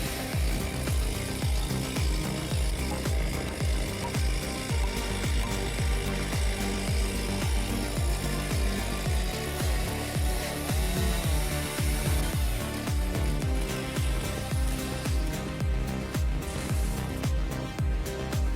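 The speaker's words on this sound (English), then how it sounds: "using the correct technique with a Stihl chainsaw is essential." A Stihl chainsaw grinds through wood in a rough, continuous roar with rhythmic pulsing, loud and close, with no talking.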